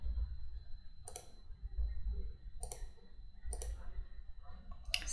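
A computer mouse clicks four times, each a faint, sharp, isolated click spaced about a second apart over a quiet low hum.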